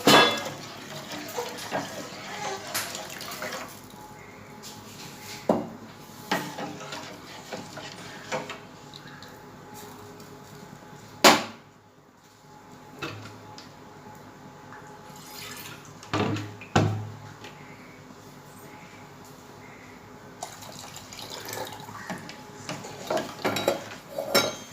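Ragi flour mixture stirred in a pot, a soft bubbling and dripping background broken by occasional clinks and knocks of a spoon against the pot, close and unhurried, without speech.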